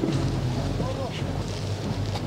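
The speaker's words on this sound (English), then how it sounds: "The police close in on the fleeing yacht." A yacht's engine rumbles on open water during a maritime police chase, beneath heavy wind buffeting the microphone, with a voice briefly audible.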